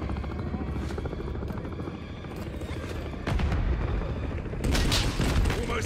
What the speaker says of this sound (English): Eyes on the last helo.